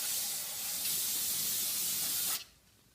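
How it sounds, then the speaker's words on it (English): Brake parts cleaner hisses from an aerosol can in one steady, close spray onto a BMW brake rotor for about two and a half seconds, then cuts off abruptly. "go ahead and use some brake parts cleaner and clean up all the areas, including the rotor,"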